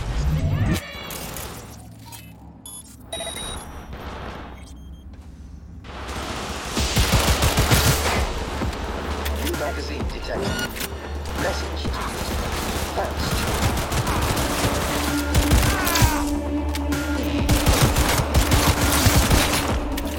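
Sustained gunfire in the Cyberpunk 2077 video game, a dense fusillade of rapid shots and automatic bursts that runs loud and continuous through most of the stretch, with a quieter opening and some mechanical clatter mixed in.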